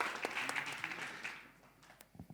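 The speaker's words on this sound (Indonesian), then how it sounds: "berikan tepuk tangan yang terbaik untuk Tuhan kita dong" A worship congregation claps at a church music coaching event, a brisk burst of applause that thins out and tapers off over about two seconds, with a few scattered claps at the end.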